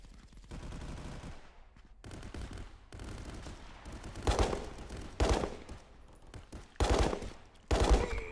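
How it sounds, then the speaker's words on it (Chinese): Bursts of automatic pistol fire in the shooter game Contractors, a few short volleys spaced out over steady background game noise, loud and close, with no talking. "这手枪竟然是连发的"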